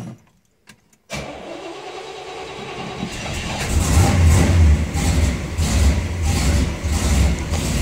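An old Chevelle barn find is cranked after a short silence, catches and fires up, then settles into a loud, rough, uneven idle with periodic surges close by.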